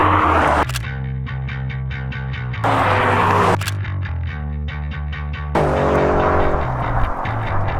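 An older Ford Mustang GT launching hard in a drag race, its engine loud and close, revs climbing in rising surges broken by three sharp gear shifts, with no talking.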